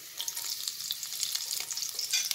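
Garlic frying in olive oil, a dense continuous bright sizzle close by with light crackles and stirring, steady and loud for the whole short stretch, no voices.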